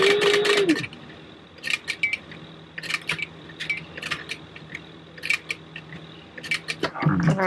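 A sewing machine stitching fabric beside a D-ring connector for a purse, with short clattering runs of stitches separated by brief pauses, close and clear, and a voice speaking briefly at the start and end.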